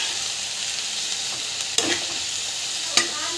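Coconut and tomato sauté in a pan for a mint chutney, a steady soft sizzle with a couple of sharp stirring scrapes standing out near and alone.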